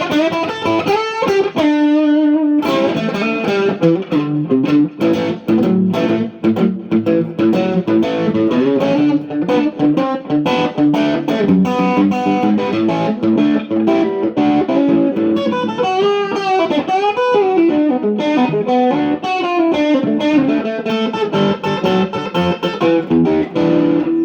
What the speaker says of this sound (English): It's still a little bit too much distortion for my taste